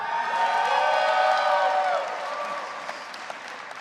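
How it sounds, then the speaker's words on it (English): Audience applause fills a hall at a city's State of the City address, a steady wash of clapping with a few whoops and cheers that swells then gradually thins out. "Let's give them all a round of applause."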